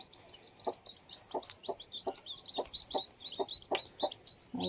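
A hen clucks in steady, repeated bursts close by while newly hatching chicks peep softly and high in the background, with no one talking.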